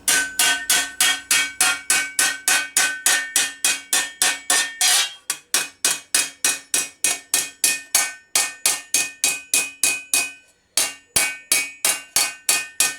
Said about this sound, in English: I've used a smaller hammer so that I can control the amount of material moving at any one time.